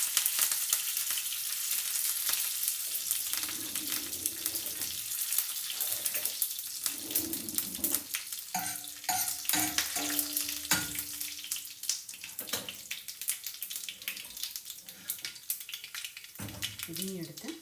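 Dried red chillies and curry leaves frying in hot oil give a dense, continuous crackling sizzle that bursts and pops throughout, close to the microphone, with a brief spoon clink near the end.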